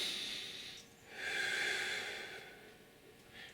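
Slow, deep breathing during a simple stretching routine: soft airy inhales and exhales swelling and fading over a few seconds, close and quiet, with no talk.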